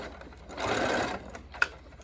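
A domestic sewing machine runs a long straight stitch to form a drawstring channel on joggers, a steady close whirring burst that slows and stops, followed by a brief click.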